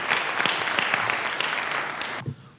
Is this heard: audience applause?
yes